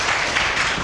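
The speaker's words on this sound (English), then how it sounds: "Clap for yourself." Children clap for themselves during a classroom phonics lesson, a brief dense burst of many hands clapping close by.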